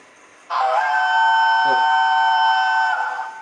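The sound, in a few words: steam locomotive whistle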